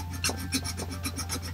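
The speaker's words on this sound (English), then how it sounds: "I'm going to use just a sharp-edged file here" A sharp-edged file rasps against plastic model armour on a 1:100 scale Tieren Ground Type kit, giving a rhythmic series of short scraping strokes, close and steady, over a constant low hum.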